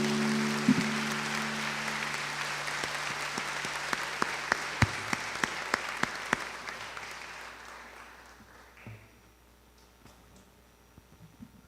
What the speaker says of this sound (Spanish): Quiero que por favor le demos un aplauso a la palabra de Dios fuerte.